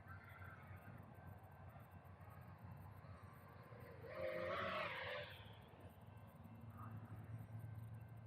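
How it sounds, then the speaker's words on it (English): A train approaches under a low, steady rumble. Midway it sounds one clear whistle blast, moderately distant, before the rumble carries on. "Oh, the train's coming."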